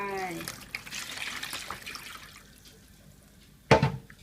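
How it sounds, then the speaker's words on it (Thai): One litre of water poured into a bowl while soaking dried squid: a bright splashing pour fading gradually over a few seconds, followed by a short louder knock or splash at the end. "ต่อน้ำนะคะ 1 ลิตรนะคะหนึ่งลิตร ก็ใส่เข้าไป"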